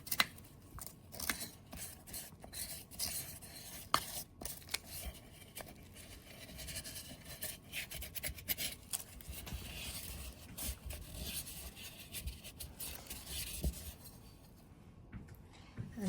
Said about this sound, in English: A little bit of equipment cleaner. We can start cleaning the sides.